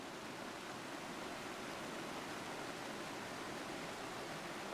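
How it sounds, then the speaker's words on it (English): A nearby river flows beside a rainy car campsite, a soft, steady rushing hiss that stays constant and faint throughout, with no voices. "So I'm right next to a river. Don't know if you can hear it."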